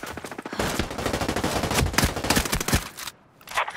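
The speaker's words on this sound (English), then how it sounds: "I hear gunfire" Rapid bursts of video game gunfire crackle almost continuously, loud and close, before a brief lull and a final shot.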